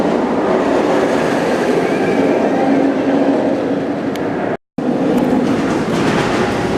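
Kumba, a Bolliger & Mabillard roller coaster at Busch Gardens Tampa, rumbles along its track in a steady, loud roar of wheels and rushing wind, close by, with a brief dropout near the end and no talking.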